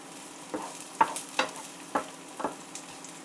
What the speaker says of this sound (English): The onions have started to soften